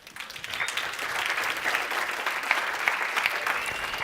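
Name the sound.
audience round of applause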